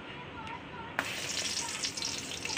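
Eggplant frying in 100 grams of refined oil in a hot kadai, a dense close sizzle that jumps louder about a second in as pieces hit the oil, then stays steady and crackling, with no talking.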